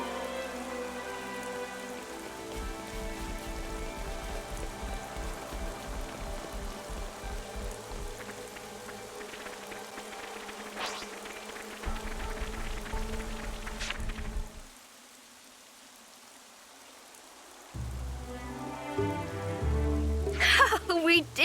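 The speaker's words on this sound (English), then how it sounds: "Rain, a blessing." Steady rain falling in the Xenoblade Chronicles 3 game, a soft continuous patter under background music, briefly dropping out partway before returning with brighter chimes.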